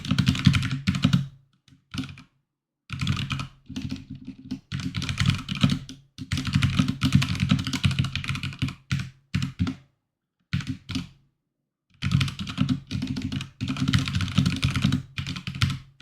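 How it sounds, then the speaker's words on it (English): Typing on a computer keyboard, close, steady clicking in bursts separated by short pauses, with no talking. "And I'll continue speaking as soon as I finish typing out all this."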